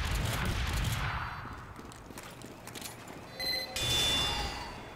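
Gunfire in the video game Team Fortress 2, someone shooting at a sentry gun, heard as a dense burst of shots near the start and short sharp bursts toward the end, fairly loud over game noise.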